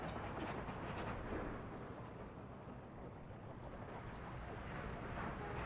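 A train running in the video game Workers and Resources, set around 1960, giving a steady low rumble that stays faint and continuous throughout with no speech.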